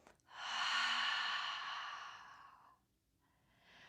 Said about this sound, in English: Take a deep breath in through the nose. And then exhale out through the mouth.